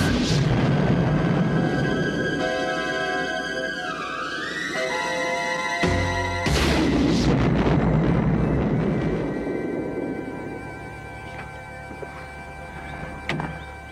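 A bazooka firing in a movie scene: a sharp, loud blast cuts through a tonal score midway, followed by a decaying boom and scattered softer thuds as the sound fades.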